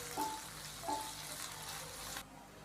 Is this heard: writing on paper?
no